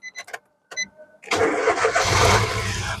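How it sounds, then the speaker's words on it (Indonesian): Manual 2011 Nissan March 1.2 engine starting: a few chiming warning beeps, then the starter catches and the engine fires into a loud, steady idle close by. "Terus barulah kita coba nyalakan mobil."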